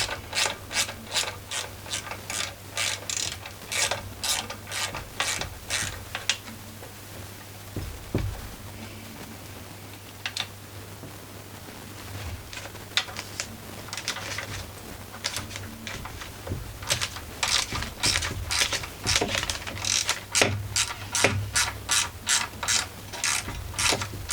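A ratchet wrench clicks steadily while backing out 10mm screws from a Greppa GC950DC generator during teardown, with runs of fast close ratcheting broken by brief pauses and no talking.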